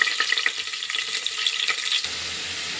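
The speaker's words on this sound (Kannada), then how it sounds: "ಈರುಳ್ಳಿ ಹಾಕ್ಕೊಳ್ಳೋಣ ಇದಕ್ಕೆ ಒಗ್ಗರಣೆಗೆ" Onions frying in hot oil for a tempering, heard as a close, busy sizzle with sharp crackles and pops that drop to a softer hiss near the end, no voices.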